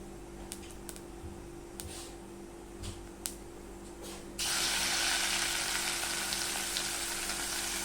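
A coconut, ginger and garlic paste goes into a pan of crackling cumin for prawn pulao, the scattered clicks and pops giving way to a sudden, steady, loud sizzle that continues to the end.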